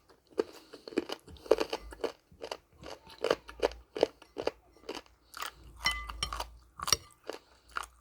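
Someone chews soft pork bone from a bowl of soup, making loud, close, crunchy bites and crackling chews in irregular bursts, with brief pauses between mouthfuls.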